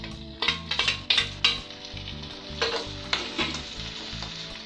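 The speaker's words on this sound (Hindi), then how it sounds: "प्याज को गोल्डन होने तक भूनेंगे।" Onions and tomatoes sizzle steadily in hot oil in a pan while dal tadka is made, with close, continuous frying crackle and several sharp bursts of spatter and stirring clatter throughout.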